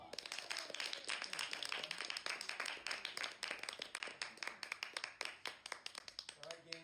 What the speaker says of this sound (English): can you give Chris a huge round of applause?